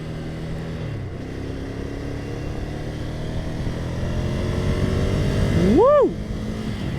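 A 2020 Ducati Scrambler Desert Sled motorcycle engine hums steadily while riding, building gradually in loudness, with a sharp rising and falling rev near the end.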